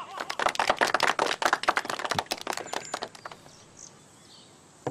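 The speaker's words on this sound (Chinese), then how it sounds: "下面我们用热烈的掌声" Audience clapping welcoming a speaker at a gathering in a Chinese period drama, a brisk burst of many hands that thins out and fades within a few seconds, moderately close.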